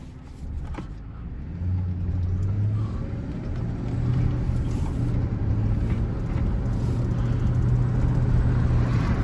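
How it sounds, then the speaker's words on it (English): A car on a test drive with a suspected torque converter or low-fluid fault, its engine droning steadily with a low hum that rises and falls in surges, continuous and fairly loud from inside the cabin. "So I'm gonna go ahead and drive it and see how it feels."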